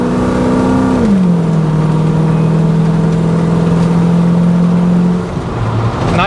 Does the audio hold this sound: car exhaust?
yes